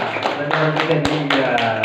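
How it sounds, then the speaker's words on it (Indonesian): A class claps for the student groups, a room of hands beating in loose rhythmic bursts, close and fairly loud, while a voice talks over the clapping. "tepuk tangan dulu untuk kelompok semuanya"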